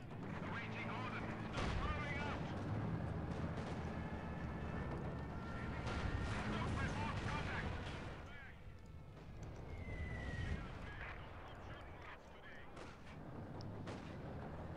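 A Stuka dive-bombs in the Company of Heroes 2 battle game: dense rumbling artillery and gunfire blasts roll on almost continuously, with a high whining tone sliding through the middle of the barrage.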